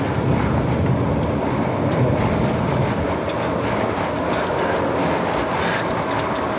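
Steady, loud roar inside a Chevrolet Trax small SUV with a 1.4-litre gasoline turbo engine under acceleration, engine and road noise blending into a dense, unbroken wash with no talk.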